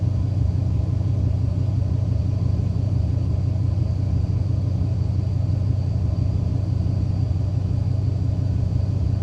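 The big block engine of a 1986 Buick Regal idles with a low, steady rumble heard up close, unchanged throughout and with no voices.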